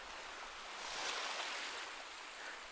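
Gentle ocean waves rolling onto a sandy beach, a soft continuous wash of surf that swells slightly in the middle, steady and faint with no voices.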